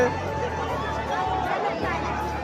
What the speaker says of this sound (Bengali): প্রচুর ভিড় প্রচুর ভিড়